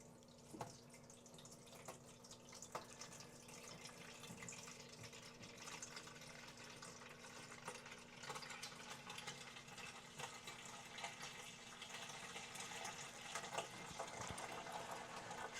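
A pump moves homebrew IPA wort into a bucket, a faint continuous mechanical hum with steady trickling and clicking textures throughout.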